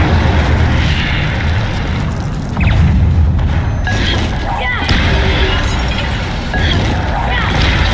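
A fire spell goes off in the Hogwarts Legacy video game during a fight in the Restricted Section, a loud, dense rumbling blast layered over continuous game effects and booming impacts with no pauses.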